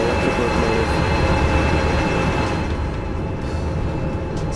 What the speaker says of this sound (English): it's a diesel electric locomotive